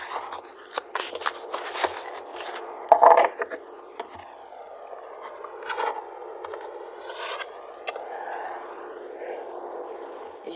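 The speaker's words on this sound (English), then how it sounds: "So let's pull a card for you and a card for them." Tarot cards are pulled and shuffled from a deck, close crisp scraping and riffling card sounds with brief flicks and rustles, fairly quiet and intermittent.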